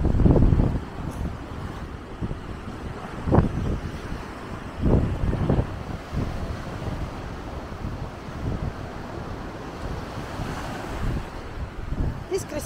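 Steady wind gusting across the microphone on a beach in Mallorca, with surf rumbling underneath and a few louder buffets.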